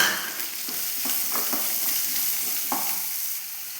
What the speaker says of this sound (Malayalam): ഇനി നമുക്കതിലേക്ക് രണ്ട് മീഡിയം സൈസ് സവോള കട്ട് ചെയ്തതാണ് അതും കൂടെ ചേർത്ത് കൊടുക്കാം